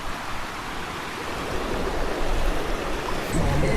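Steady rushing water of a river fills the whole stretch, a broad constant flow running nearby, with no voices.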